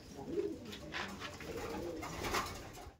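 Pigeons coo softly in a few soft repeated calls at a loft in Andhra, moderately near, with no talk over them.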